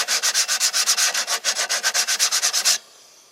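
Hand sanding with 100 grit sandpaper on a 6.5 inch hand sanding pad, on a Ford Ranger: about twenty quick, even back-and-forth rasping strokes, close and loud, that stop abruptly near the end.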